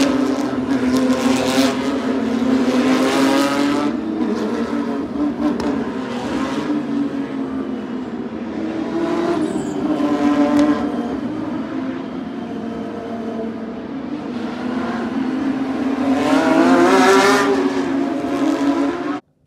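Porsche race cars passing on a race track before a race, engines rising and fading in repeated drive-bys, some loud and close with high whining tones, others farther off, with no talking over them.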